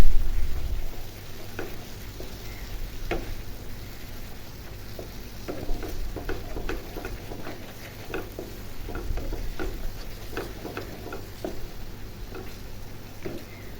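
Carrot laddu mixture with milk powder being fried and stirred in a pan, with continuous soft sizzling and scraping of a spoon, irregular clinks and taps throughout, close and fairly quiet, no talking.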